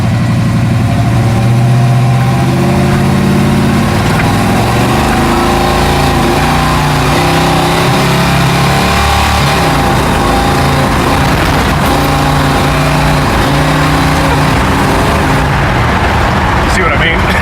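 A truck engine with a poorly running carburetor, loud and close, idling roughly and revving up and down unevenly throughout, with a person talking over it.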